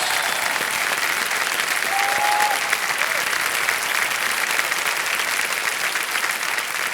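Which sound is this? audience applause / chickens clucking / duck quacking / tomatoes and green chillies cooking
audience applause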